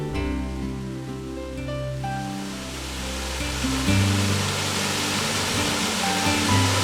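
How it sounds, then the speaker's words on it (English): Hopkins Falls, a waterfall near Warrnambool in Victoria, pours with a broad steady rush of water that swells slightly louder partway through, heard alone with no voices. "we divert from the rugged windswept coast to reach the comparatively tranquil Hopkins Falls"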